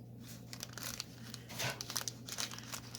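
A plastic Amazon mailer bag is cut open, giving quiet, close crinkling and rustling with a few short crackles over a low steady hum.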